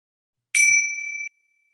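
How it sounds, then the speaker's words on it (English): A single clear bell strike closing a guided mindfulness meditation, ringing out bright and close, then sustaining a pure tone for under a second before stopping in silence. "I'm going to ring the bell"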